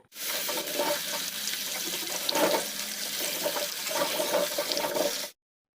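Potatoes frying in hot oil and ghee in a wok over a high gas flame, a dense, steady hiss of sizzling close up, alone and constant before cutting off abruptly.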